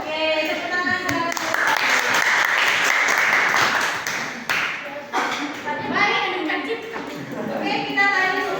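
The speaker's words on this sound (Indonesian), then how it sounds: "Oke, tepuk tangan guys." Children clap together in a classroom, a burst of applause of several seconds mixed with kids' voices and chatter, with talking continuing around it.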